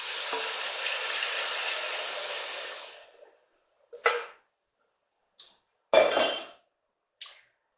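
Steak gravy sizzling and being stirred in a pan: a hissing, bubbly fry for about three seconds, then several short scraping clinks of a utensil against the pan with quiet gaps between.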